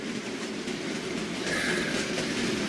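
A Hornby OO gauge model 8F locomotive runs along model railway track with a steady whirring rumble and faint rail clatter, close and continuous, rising slightly midway through.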